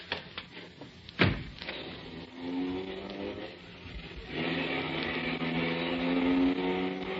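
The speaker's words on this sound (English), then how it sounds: "drive on, McDuff" Car engine starting up and pulling away in a 1940s radio detective drama, a sharp thump followed by a steady rising engine drone that swells and holds, close and fairly loud with no talk over it.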